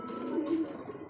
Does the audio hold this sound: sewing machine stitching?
no